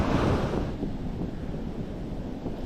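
Ocean surf rolls steadily onto a beach during a fishing outing, a broad continuous wash of waves with wind buffeting the microphone, fairly loud and without voices.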